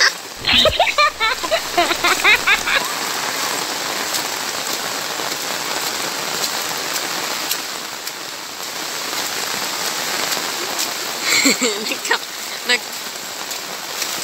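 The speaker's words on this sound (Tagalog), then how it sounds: "ang lakas talaga ng ulan" Heavy rain pours steadily onto a mountain trail, a loud continuous hiss of drops and splatter close around, with brief bursts of speech near the start and again toward the end.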